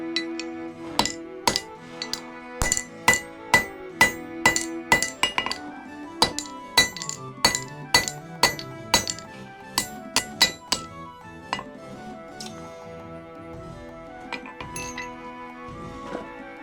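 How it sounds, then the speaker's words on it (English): Hammer blows drive a punch through a hot forged steel slug at the anvil while forging a meteor hammer, a steady run of loud, ringing metallic strikes with some lighter taps between them and a slower, sparser finish. "we're just going to go ahead and punch this slug through"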